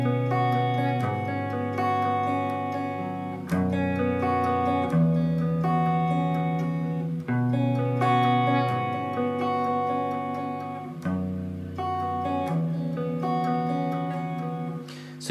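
An acoustic guitar plays a steady repeating chord pattern, bass notes alternating with higher strummed strings in a regular rhythm, close and clear with no voices.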